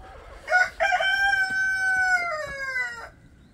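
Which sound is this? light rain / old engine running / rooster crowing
rooster crowing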